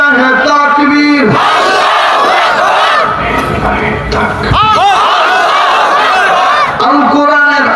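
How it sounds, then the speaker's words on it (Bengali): A large crowd at a Bangladeshi Islamic sermon gathering chants the Lillahi Takbir slogan in unison, a loud, rhythmic mass of voices answering a leader's call, repeated in roaring waves. "সবাই মিলে একই তালে একই সুরে দাও না স্লোগান লিল্লাহি তাকবীর"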